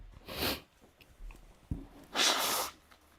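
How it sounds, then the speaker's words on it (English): Two loud, breathy snorts about two seconds apart, each a noisy rush of air through the nose, with a short sniff between them, from a person sniffling with seasonal allergies. "part of my sniffling and snorting"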